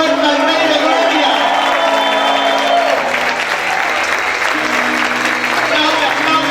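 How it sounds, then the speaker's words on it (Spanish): Loud, dense applause from a church congregation fills the room without pause, with shouting and cheering mixed in and a sustained musical tone underneath. "Vamos a gritar y aplaudir fuerte al Rey de Gloria."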